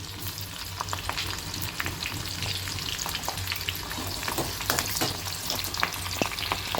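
Onions sizzling loudly in a hot pan, a dense crackling fry with occasional stirring scrapes, close and continuous.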